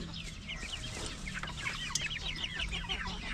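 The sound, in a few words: chickens clucking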